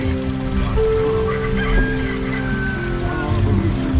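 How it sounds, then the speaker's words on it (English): Roosters and chickens near Waimea Valley on Oahu, Hawaii, several clucks and drawn-out crowing calls in the middle distance over a steady outdoor rumble, with no speech. "Ah, the roosters."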